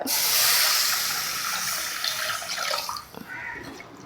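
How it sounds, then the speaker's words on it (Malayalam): A cup of coconut milk poured into a simmering Vaala fish curry gives a close, steady liquid splash that eases off into softer bubbling and stirring, with no voices. "ഇനി നമുക്കതിലേക്ക് ചേർത്ത് കൊടുക്കേണ്ട മെയിൻ സാധനം തേങ്ങാപ്പാലാണ് ഒരു കപ്പ് തേങ്ങാപ്പാൽ"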